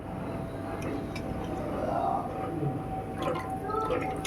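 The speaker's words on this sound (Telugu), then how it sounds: "రవ్వలో నుంచి నీళ్ళు ఇదిగోండి ఇలా గట్టిగా పిండేసి" Faint drips and trickles of water falling in small bursts as soaked semolina for idli is squeezed by hand, over a steady background hum.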